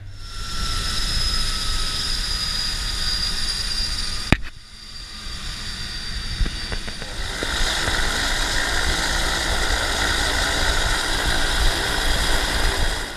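A small floatplane's engine drones steadily at idle, with a sharp clunk midway and the hum continuing unbroken afterward.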